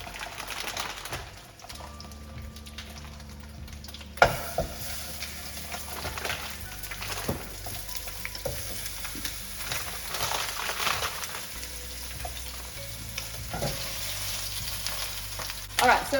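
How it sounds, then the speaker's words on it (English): Lamb shanks sizzle loudly in hot oil in a casserole dish, a continuous crackling fry with occasional sharper spits and bumps as the meat settles, close by with no talking. "I'm just going to add some oil to the casserole dish, and I'm going to add the lamb shanks in."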